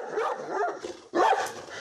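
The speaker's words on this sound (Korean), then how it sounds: "서로 보이기만 해도 누가 먼저랄 것 없이 짖는다고 하는데요" Two large dogs bark back and forth at each other in short, loud, close bursts, with a brief pause between the volleys.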